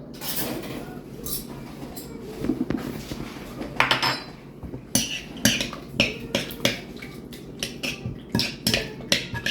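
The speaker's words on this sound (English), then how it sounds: "Mix that in, let that barbecue sauce, pineapple juice, and the seasonings coat everything." Barbecue sauce, pineapple juice and seasonings are mixed in a bowl with a utensil, producing repeated sharp clinks and scrapes against the bowl in an uneven rhythm that grows more regular toward the end, close and clear with no speech.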